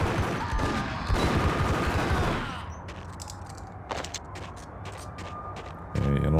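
Gunfire in the 2001 PC game Max Payne comes as a sustained rattle of rapid shots, then scattered single cracks after a pause, with footsteps faintly between them.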